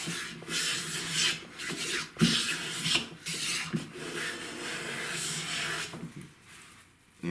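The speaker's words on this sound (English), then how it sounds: "I'm going to start planing" A hand plane shaving wood in repeated rasping strokes, close and fairly loud, each pass a breathy scrape with brief pauses between them.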